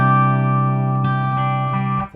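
A Burman Pro 501 hand-wired boutique guitar combo amplifier with a faulty, disconnected reverb, giving a loud sustained distorted tone with a steady hum, a brief crackle midway, and a sudden drop at the end.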